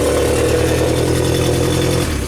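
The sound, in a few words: Genie boom lift engine starting and running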